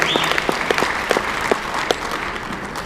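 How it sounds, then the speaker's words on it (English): Dinner-event audience applauding a guest, a steady wash of many hands clapping, moderately loud and close, with a few sharper individual claps standing out. "Put down the forks and clap for Stephen Wolf."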